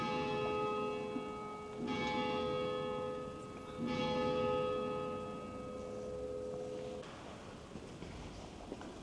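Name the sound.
church bells ringing in Tarascon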